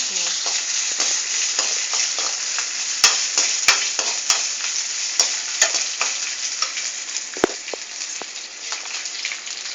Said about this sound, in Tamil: பருப்பெல்லாம் வறுத்துட்டு இஞ்சி பச்சை மிளகா சேர்க்குறேன்